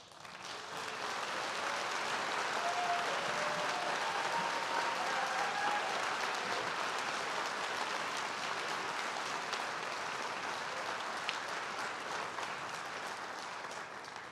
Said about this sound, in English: let's give them a round of applause for their commitment to the programs and our campus community